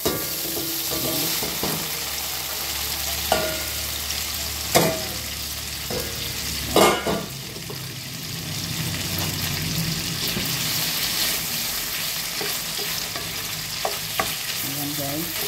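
Spaghetti for carbonara is stirred in a frying pan over oil or butter, giving a steady sizzle broken by scraping clatters of the utensil against the pan.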